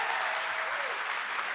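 A sold-out theatre crowd claps in a dense, even burst of applause that fills the room and carries on steadily with no voices over it.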